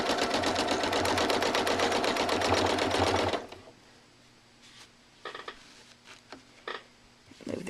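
A sewing machine stitches in a rapid steady buzz while machine quilting a Splendid Sampler block, then stops abruptly, leaving faint handling taps and rustles of fabric and the ruler foot.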